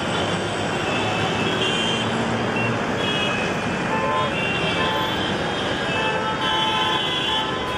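Dense city traffic roars in a continuous wash of engine noise, with horns tooting and a beeping warning now and then, loud and unbroken throughout.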